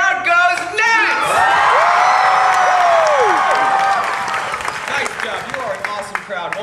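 A theme park game-show audience at Disney's Hollywood Studios erupts in loud cheering, whoops and applause after a million-point answer, a dense crowd roar rising and slowly thinning, with voices shouting over it.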